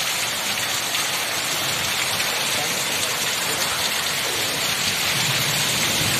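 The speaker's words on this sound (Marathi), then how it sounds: "हे बघा कसा पाऊस मस्त पडतोय" Heavy pre-monsoon rain pours down in a dense, steady roar that fills the whole stretch, with thunder rumbling during a stormy downpour and gusty wind.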